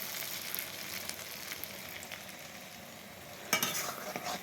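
Cut potatoes frying in oil, a soft steady sizzle heard close and fairly quiet, with a sharper clatter of stirring near the end.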